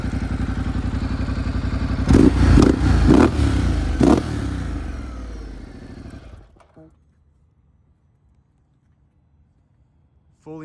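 A 2015 Ducati Multistrada 1200S idles loudly through a titanium Termignoni exhaust, then blips sharply four times before the engine winds down and cuts off, leaving near silence.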